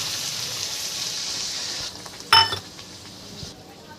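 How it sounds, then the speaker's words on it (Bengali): Hot water poured into a frying spice paste for prawn bhapa sets off a sizzle, with a broad frying hiss, a sharp clink of utensil on pan midway, then a softer ongoing bubbling sizzle, no talk. "এই মশলাটি থেকে সম্পূর্ণ তেল বেরানোর পর আমি এর মধ্যে একটু গরম জল অ্যাড করছি।"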